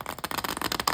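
Oracle card deck, Angels and Ancestors, riffled and shuffled by hand, a dense run of crisp papery flutters and snaps over about a second, close and moderately loud with no talk.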